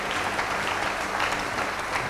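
A church congregation applauds steadily during a Sunday worship service, a dense, continuous wash of clapping from many hands that holds at an even level for the whole stretch, with no speech over it.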